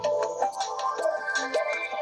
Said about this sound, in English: You got the ringtone.